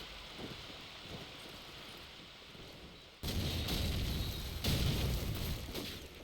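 Grenade explosions in a Call of Duty 4 match, two loud booming bursts with a rumbling tail following quieter in-game ambience.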